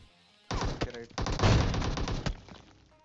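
Gunfire from a scoped rifle in PUBG Mobile: a burst of loud, close shots cracking in quick succession for about two seconds, then fading, with some voice mixed under the shooting.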